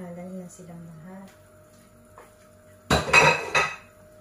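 Utensils stirring and clanking in a pot of mishua with chicken, a short burst of scraping and clinks near the end after a quieter stretch with a brief hum of voice early on.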